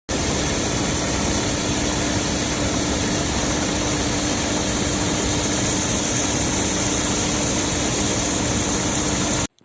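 Tractor and maize harvesting machine engines run steadily at close range, a constant heavy mechanical drone with a high whine on top, holding without a break until it stops abruptly at the end.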